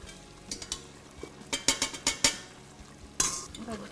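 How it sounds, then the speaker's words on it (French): Lamb tagine with prunes being stirred in a pot, a run of scraping and clinking strikes from a utensil against the pot, several sharp ones in quick succession, over a faint simmer. "On va bien mélanger tout ça."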